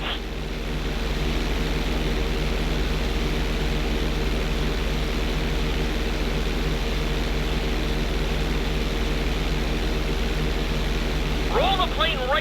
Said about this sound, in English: Okay, roll the plane upside down. Hold the plane upside down for several seconds.